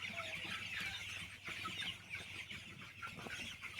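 Broiler chickens in a poultry shed on a cold morning cluck in a dense, overlapping flock chorus, steady and moderately close, with no one speaking.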